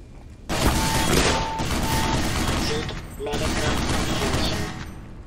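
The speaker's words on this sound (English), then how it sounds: "That sounds like another of those 50 cals to me." A .50 caliber machine gun fires in Black Mesa, a dense, loud burst of heavy rapid gunfire that rattles on, briefly eases, then resumes, with a voice speaking faintly alongside.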